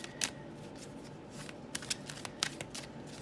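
Tarot cards being shuffled quickly, with several crisp riffling bursts and soft flicks spread across the moment, fairly close and quiet over a low room hiss, with no talking.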